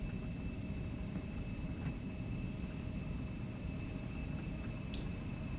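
An Embraer E190 in the X-Plane 12 flight simulator starts its takeoff roll with a steady, even engine drone and a constant whine. A couple of faint clicks sound over it.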